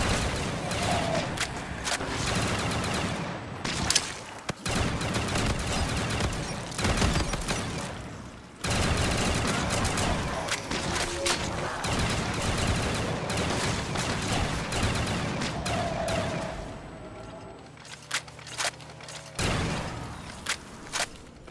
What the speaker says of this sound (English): I'm just shooting. Hopefully I'm gonna hit something.